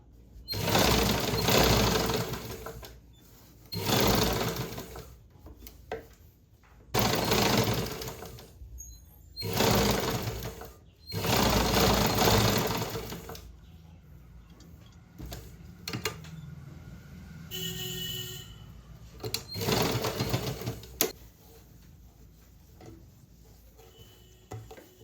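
An electric sewing machine stitches a blouse side seam and sleeve joint in several loud, close whirring bursts of a few seconds each, separated by pauses with quieter handling sounds.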